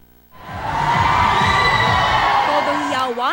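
Crowd cheering, screaming and shouting at a Catholic social media awards event as celebrities appear, a sudden loud swell of high-pitched shrieks and whoops that holds strong to the end.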